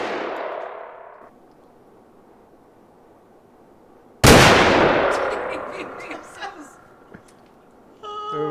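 A single loud gunshot cracks at an outdoor shooting range and echoes away over several seconds, after a stretch of quiet; a voice is heard before it and again at the end.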